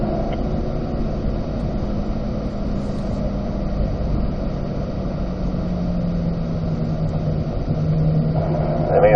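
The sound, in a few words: Chevrolet Corvette C8 engine upshifting to fourth gear on racetrack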